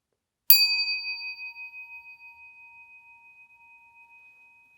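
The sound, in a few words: stick type handheld inkin bell struck, Jodo Shinshu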